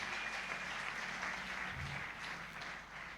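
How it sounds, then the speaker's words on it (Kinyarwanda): A congregation claps in steady, dense applause, a continuous even wash of hand-claps heard at a distance with no voices above it. "tuyikomera amashyi tuyivugirizemo."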